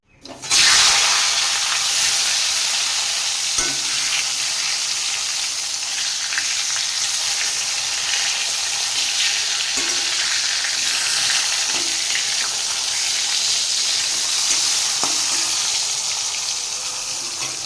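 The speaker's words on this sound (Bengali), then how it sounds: "এই যে বেগুন ভাজা বসিয়ে দিলাম" Eggplant slices fry in hot oil with a steady, bright sizzle that holds loud and close for the whole stretch, with occasional crackles and soft clinks rising above it.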